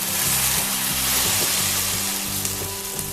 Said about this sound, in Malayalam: ഇനി ഞാൻ നല്ല ചൂട് തിളച്ച വെള്ളം ഒഴിക്കുകയാണ്.